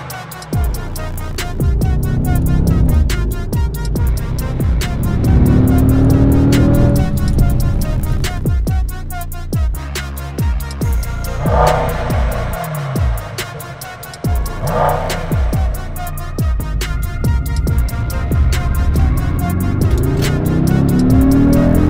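A Mercedes-AMG E63 S sedan under way, its engine loud and close, revving and accelerating in surges with sharp gear-change pops, a deep throaty roar, and faint tire noise.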